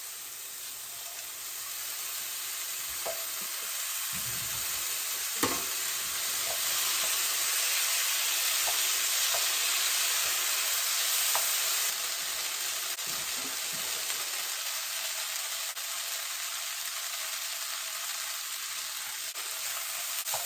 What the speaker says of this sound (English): The rice, I like frying it up a bit with some oil